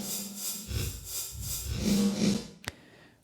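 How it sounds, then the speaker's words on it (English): Drums treated with a non-linear reverse reverb, swelling washes of hiss-like decay building in repeated pulses before cutting off with a sharp hit, followed by a fading tail. "our verb has some really neat non-linear reverse reverbs, which sounds kind of like this."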